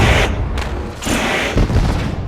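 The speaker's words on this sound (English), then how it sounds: "as we can hear the fireworks go off once again here at Eldora" Fireworks at Eldora Speedway during a speedway championship meeting, a rapid series of loud booming bursts and thuds rolling on continuously for a couple of seconds.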